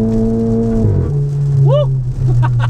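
A Volkswagen Golf GTI MK7 engine drops its pitch on a paddle-shift downshift, the tone falling and then settling into a steady lower drone, loud and close, with a brief chirp over it.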